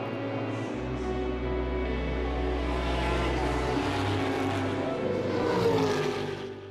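Race car engine at the Dunlop 24H Dubai 2014 endurance race, a steady loud drone passing through the final corners, its pitch shifting and swelling near the end.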